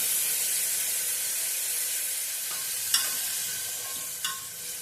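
Finely chopped onion fries in a tempering of asafoetida and turmeric on a low flame, making a constant soft hiss with a couple of small clicks as it is stirred.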